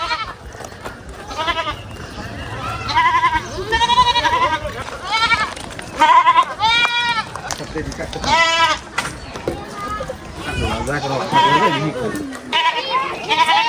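Goats bleat repeatedly at a busy rural livestock market held before Eid sacrifice, the wavering calls coming from several animals close by over a steady crowd hubbub and people talking.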